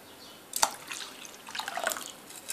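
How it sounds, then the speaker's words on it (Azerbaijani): Milk pours into an egg, salt and sugar mixture for crepe batter, giving a splashy liquid trickle with an initial drip-like plop and then a run of soft sloshing, close and fairly quiet. "Qarışıma 2 stəkan süt tökürəm."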